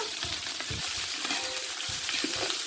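Whole garam masala spices, onion and green chilies frying in a pot over a wood fire for bagara rice, a steady loud sizzle with stirring scrapes throughout, no talk.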